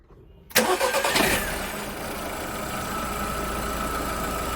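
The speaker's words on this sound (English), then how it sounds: "So we just get the engine running" A 2012 VW Polo engine cranks briefly and catches with a loud burst, then settles into a steady, even idle close by, with no voices.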